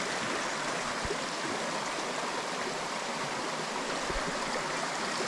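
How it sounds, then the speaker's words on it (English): Steady rushing of a flowing stream, a continuous broadband water hiss with no pauses, close and fairly loud throughout. "I like the sound of flowing water."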